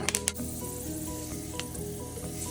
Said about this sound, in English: we're going to take a little bit of the rosemary and thyme. We're just going to pop that in to help flavor the oil.